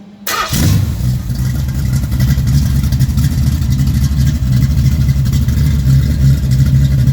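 A factory iron-head Pontiac 455 V8 with a performance cam cranks and fires after a short silence, then settles into a loud, lumpy, rumbling idle with revving throughout, close and with no talk.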